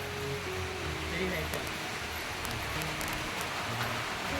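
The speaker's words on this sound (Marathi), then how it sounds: "लय पाऊस सुरू आहे" Heavy rain pours outdoors beside a pipal tree, a steady, even hiss of falling water that holds without a break from start to finish, fairly soft overall, with a faint low hum running underneath.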